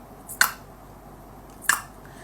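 Two crisp tongue clicks, spaced over a second apart, sharp and dry against a quiet background.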